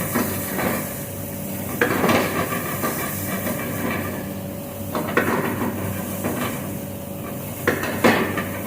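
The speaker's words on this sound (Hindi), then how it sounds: "तो अभी अच्छे से भून देता हूँ।" Tomatoes fry in a pan for matar paneer, giving off a steady, fairly loud sizzling hiss. A few clatters of a utensil against the pan break through, and no one talks over it.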